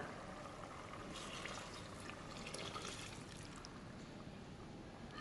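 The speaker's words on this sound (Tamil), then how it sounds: "நம்ம எடுத்து வச்சுருக்க தண்ணியை இதில் சேர்த்துடலாம்" Water pours and splashes in a steady, soft stream into a cooking pot of mutton semiya biryani for several seconds, close but quiet, with no talking.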